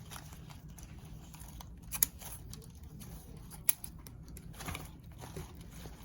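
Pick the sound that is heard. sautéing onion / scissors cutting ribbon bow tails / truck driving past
scissors cutting ribbon bow tails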